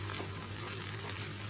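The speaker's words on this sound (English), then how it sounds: "We have to cook the tadka for 1 to 2 minutes on medium flame." A tadka of tempering spices frying on a medium flame, giving a brief, even hiss of sizzling oil with a low steady hum beneath it.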